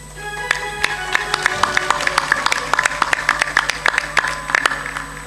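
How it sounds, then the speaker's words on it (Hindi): An audience at a spiritual satsang gathering claps, with sharp, fairly rhythmic claps repeating over a steady tonal drone, moderately loud and close. "ताली जोर से बजाया करो।"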